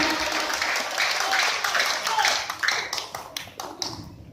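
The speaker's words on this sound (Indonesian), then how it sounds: "Baiklah, kita berikan tepuk tangan." A crowd at a security guards' martial arts display for a company anniversary claps, a dense patter of hand claps that swells and then thins into a few scattered claps, with some voices in the mix.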